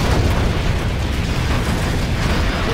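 Rocket bombs detonate in the Command & Conquer: Generals strategy game, a continuous heavy rumbling roar of explosions, loud and steady throughout with no gaps.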